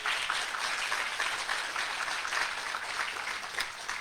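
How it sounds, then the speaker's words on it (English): Steady applause from a crowd at a guide dog class graduation, a dense, even patter of clapping lasting throughout with no voices. "So another big round of applause for Sean and Sydney."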